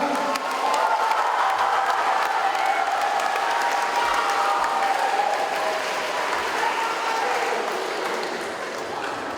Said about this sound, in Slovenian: Dajte en aplavz še za Luka!